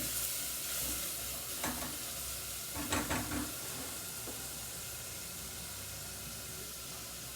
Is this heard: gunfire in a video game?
no